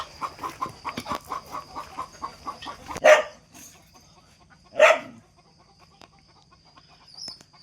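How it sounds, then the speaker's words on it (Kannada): Chickens cluck in a quick rhythmic run, then two loud, sharp squawks burst out close by. Quieter intermittent calls follow. "ನೋಡಿ ಮೇಲೆಲ್ಲ ಬಾಯಿ ಬಡ್ಕೋತವೆ ಕೋಳಿಗಳು"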